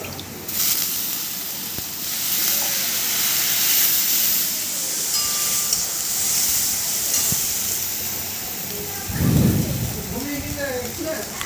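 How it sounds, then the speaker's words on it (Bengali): Fish head curry (muri ghonto) sizzles as it is sautéed with coriander powder and a splash of water: a constant, close, crackling hiss throughout, with a brief low bubbling surge near the end. "সামান্য জল দিয়ে একটু ভালো করে কষিয়ে নেবো"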